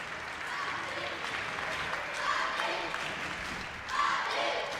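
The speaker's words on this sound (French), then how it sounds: "on peut les applaudir à nouveau" Audience applause at a youth indoor national championship in Nîmes, a steady broad wash of clapping with crowd noise throughout, swelling slightly near the end, with a voice faintly present underneath.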